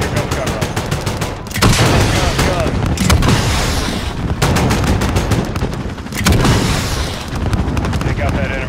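Enemy troops on an airfield tarmac fire on the player in Call of Duty: Modern Warfare on Xbox One, a dense stream of rapid machine-gun bursts and heavy booms, loud and close, broken by short pauses.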